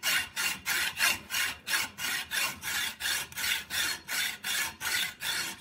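A hacksaw cutting rubber O-rings held in a vise: about fifteen even back-and-forth strokes in a steady rasping rhythm, close and clear, with no talking.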